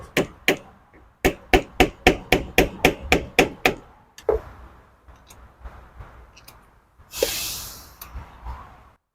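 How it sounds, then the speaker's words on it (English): Sharp metal-on-metal taps from a small flathead screwdriver working a cap off a wheel hub on a 2014 Chevy Silverado 4x4, a rapid run of about a dozen evenly spaced clicks followed by scraping and a brief hissy scrape, close and alone. "take a small flathead screwdriver and then fit it right in between the cap and the hub"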